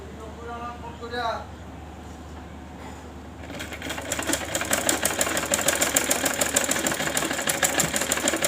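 Someone speaks briefly before a sewing machine starts stitching a fabric corner diagonally, its rapid rhythmic needle clatter running steadily and close for the rest of the clip.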